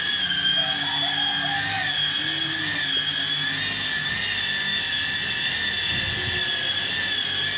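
Steady high-pitched whine of a power sander running continuously on car paint, close and even, with faint low background noise beneath.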